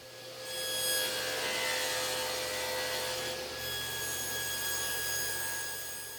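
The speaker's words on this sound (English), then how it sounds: "I'm cutting the corresponding tongue on the edge of that." A power saw cuts a tongue along the edge of a plywood panel for a modern console stereo, giving a loud, steady, continuous whine with a slight dip partway through.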